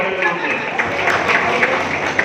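Audience applause fills a hall at a voluntary blood donation festival in Krishnanagar, a steady wash of many hands clapping, with a voice speaking over it.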